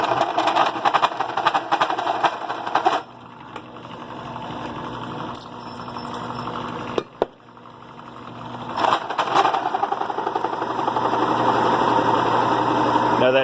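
A drill spinning a 2.5 inch hole saw through a plug makes a steady, loud mechanical whir with a brief pause and a dip in pitch, then picks back up and grinds on continuously.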